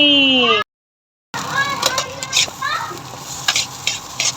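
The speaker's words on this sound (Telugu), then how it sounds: "పిల్లల కోసం అయితే ఎగ్ ఫ్రైడ్ రైస్ చేస్తున్నారు." Egg fried rice stir-fried in a pan, with scraping and sizzling under children's voices after a brief silence.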